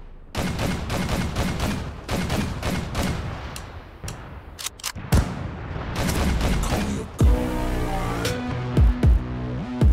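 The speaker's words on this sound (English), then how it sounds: "I'm also hearing gunfire here as well" Rapid bursts of video game gunfire crack in dense volleys, some single sharp shots spaced apart, followed by a heavier rumbling stretch and a few final loud blasts.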